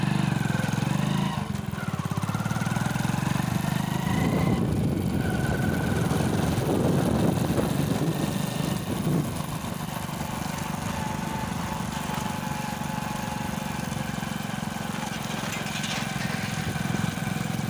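Motorcycle engine heard by a pillion rider on a village ride to a farmhouse: a continuous close engine drone mixed with wind noise, slightly louder in the middle, then steadier and quieter toward the end.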